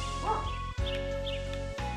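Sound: dog barking

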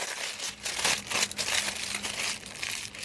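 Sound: crumpling and folding aluminium foil

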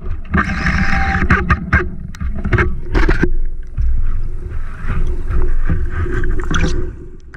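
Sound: inflatable boat engine starting

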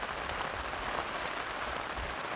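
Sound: rain falling on a tarp and tent

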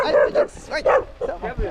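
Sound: dog barking

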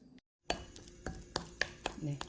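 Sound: stirring seasoning sauce in a bowl

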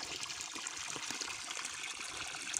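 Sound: water falling and trickling into a guppy tank

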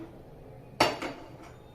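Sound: pressure cooker being set on the stove

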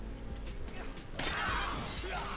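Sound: glass shattering in the video game Dead Rising 2

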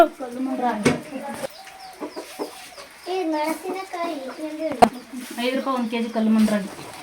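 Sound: chickens clucking

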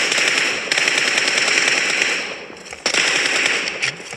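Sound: shotgun fire in a mobile video game

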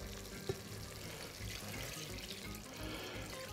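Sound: water poured into a soup pot

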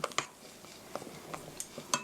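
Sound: folding strawberry cake batter in a bowl

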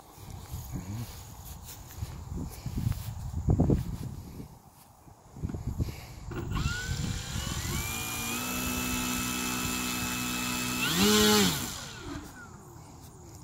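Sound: Katana aerobatic model plane flying on maiden flight

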